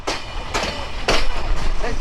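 Chilahati Express train running through Natore railway station after a five-minute halt, a steady rolling rumble with recurring bursts of wheel and carriage clatter, heard from aboard with a voice faintly under the noise.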